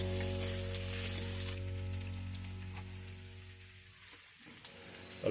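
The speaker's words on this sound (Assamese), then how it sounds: "মাংসটো ধুনীয়াকৈ ফ্ৰাই হৈ গৈছে" Pork pieces fry in their own rendered fat in a pan, giving a steady, close sizzle with a low hum that eases slightly toward the end, with no voices.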